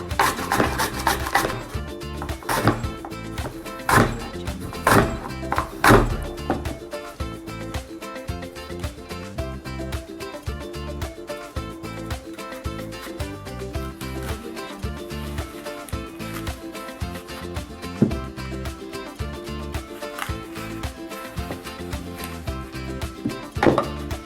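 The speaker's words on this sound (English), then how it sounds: "I am cutting one apple into round slices like this" Repeated knife strokes slicing an apple into round slices on a board, with firm thuds and scraping cuts, louder in a burst early on and then a steadier run of softer chops.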